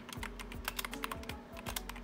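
Rapid clacking keystrokes on a SteelSeries Apex Pro TKL mechanical keyboard, close and crisp, in an uneven typing rhythm with no voices.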